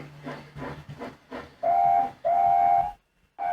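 A steam engine whistle sounds in a Thomas & Friends story, two long steady blasts and a third starting at the end, loud and close, with rumbling engine noise before them and no voices.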